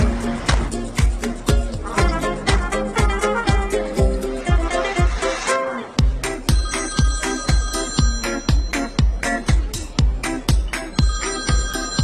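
A phone rings with an incoming call, its musical ringtone pulsing in a quick, steady beat of bright repeated tones. It plays loud and close, with no voices, for about twelve seconds.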